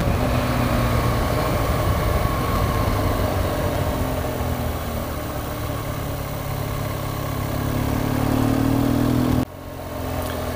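A BMW GS1200 motorcycle rides along the Blue Ridge Parkway. Its engine drones loud and steady with heavy wind rush throughout, then drops off abruptly near the end.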